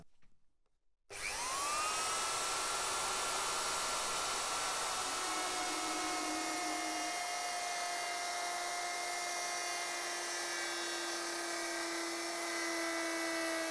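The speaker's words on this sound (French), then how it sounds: "Fraisez ensuite délicatement les deux fentes." An electric router mills two slots into a wooden log to make a paint filter. A high, steady whine starts abruptly after a brief quiet moment and holds loud and constant to the end.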